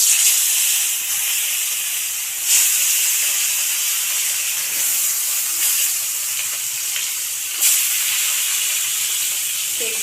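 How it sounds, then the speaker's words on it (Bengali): Fish coated in salt and turmeric frying in hot white oil in a kadai, a steady dense sizzle and hiss with a few brief bursts of spatter, close and continuous throughout. "তেল গরম হয়ে গেছে মাছ ছেড়ে দেবো"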